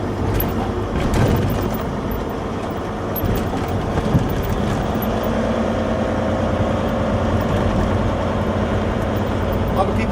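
A 2009 Volvo 880 truck with a 600 hp D16 engine and iShift transmission runs at low RPM, giving a steady low rumble under a voice.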